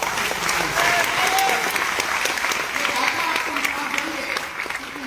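A live audience bursts into sustained applause at a public gathering, dense clapping holding steady for about five seconds with a faint crowd murmur, tapering slightly at the end.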